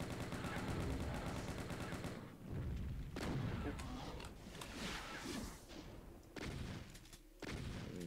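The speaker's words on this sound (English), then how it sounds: "some shotgun sniping here" Shotgun blasts in the horror shooter Unloved, a few loud booming shots with scattered impacts under a dense, noisy game mix, with a voice talking at times.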